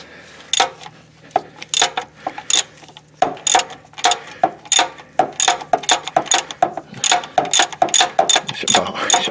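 A socket ratchet works a starter bolt on a Jeep Grand Cherokee 4.0, making a run of close, sharp metallic clicks in uneven bursts with brief pauses between them.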